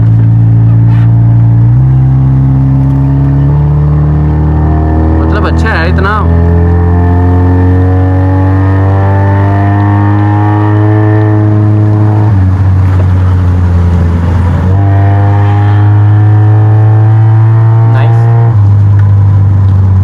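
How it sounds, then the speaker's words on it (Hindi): A restored Toyota SE Saloon 1.6 engine revs repeatedly up to its rev limiter cut-off, loud and close, with the pitch climbing and stepping down several times while someone speaks briefly over it. "तो अभी आप इसका थोड़ा सा साउंड चेक करवाते हैं कट ऑफ पे"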